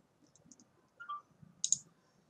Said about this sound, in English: I'm going to click on confirm order.